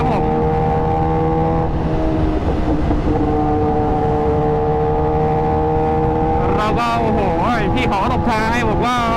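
Big bike motorcycle ridden hard along a busy expressway on a Friday, its loud engine droning steadily throughout with rising revs and passing traffic near the end, a voice talking over it.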